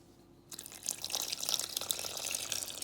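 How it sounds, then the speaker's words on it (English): Room temperature water pouring steadily into a bowl of dough ingredients, a bright continuous splashing stream that starts abruptly and continues close by without talk. "we're gonna go in with some water."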